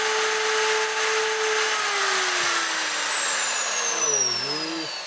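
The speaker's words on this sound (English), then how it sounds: "that router bit is making an absolute mess, and it's chomping it up." A power router spins loudly while its bit cuts wood on a tiny wood cabin window, a high whining motor drone that gradually falls in pitch as it bogs down, close and alone.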